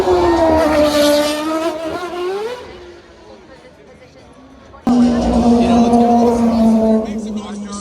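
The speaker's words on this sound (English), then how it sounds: "Make some noise for Scott Speed in the RV7" A Red Bull RV7 Formula One race car runs at a San Francisco street showrun, its high engine note rising and falling, fading, then roaring loudly back in at close range, while a commentator talks over it.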